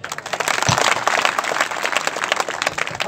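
Crowd applause at a public rally, dense continuous clapping from many hands, loud and sustained for the whole stretch with no talk over it.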